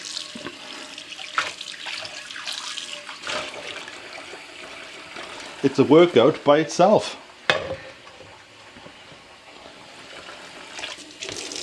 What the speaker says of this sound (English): So we just drain it, rinse it out, get all the bubbles gone.